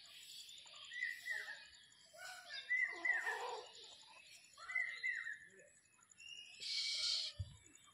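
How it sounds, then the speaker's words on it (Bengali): Birds, including white egrets, fly home at dusk to settle in bamboo trees in rural Bengal, with scattered calls and chirps heard at moderate distance amid soft ambient sound, plus a low thump near the end. "ওইদিকে দেখো বাড়ি ফিরে যাচ্ছে সব পাখিগুলো"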